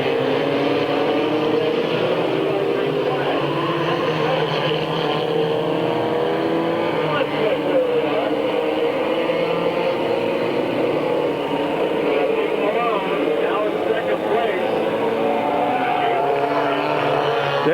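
Stock cars racing at Midvale Speedway, a dense, constant engine roar from the pack filling the whole stretch, with a commentator talking over it.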